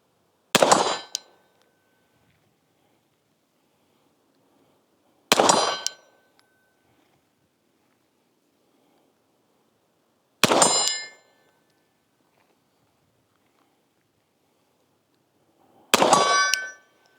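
Handgun rounds striking steel targets at a shooting range, four sharp ringing clangs spaced about five seconds apart, each decaying quickly into quiet.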